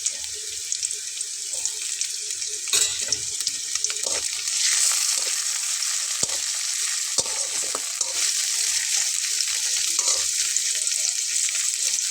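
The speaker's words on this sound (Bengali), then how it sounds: "পেঁয়াজটা হতে হতে আমি এখানে চিংড়ি মাছটা দিয়ে নেব" Prawns added to onion frying in a pan for a bhindi masala, a loud continuous sizzle with intermittent clatters and scrapes of stirring, swelling as the prawns hit the oil.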